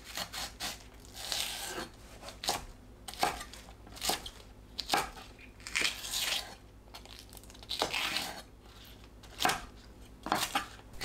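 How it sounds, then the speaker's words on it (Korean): A knife slices onion halves and lengthwise-scored green onion into pieces on a cutting board while dakgaejang, a Korean spicy chicken soup, is prepared, giving a steady run of crisp, close chopping strokes with no talk. "파는 길게 칼집 넣고 5cm 길이로 썰어줍니다."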